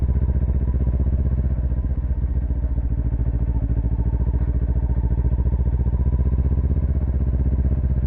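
Motorcycle ridden in first gear on the throttle without the clutch, a steady close engine thrum that stays even and continuous throughout.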